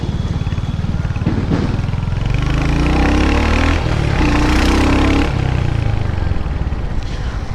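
Royal Enfield Hunter motorcycle ridden through traffic, its engine droning steadily and close throughout with a few rises in revs and gear changes, wind and road noise filling the background.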